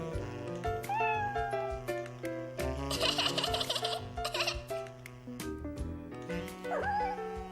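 A kitten in a children's cartoon meows repeatedly while playing with a shoelace, with squeaky calls over music and giggly sounds, loud and continuous.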